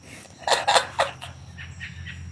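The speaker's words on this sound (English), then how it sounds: "Shut up, birds." Birds call outdoors in a few short, bright chirping bursts followed by fainter calls, with no talking over them.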